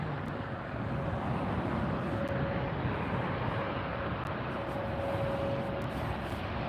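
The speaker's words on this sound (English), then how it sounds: "See the Qantas Airbus 380 taxiing back there" A Qantas Airbus A380 taxis at LAX, heard as a broad, steady roar from some distance with a thin engine whine riding on top, continuous and unbroken.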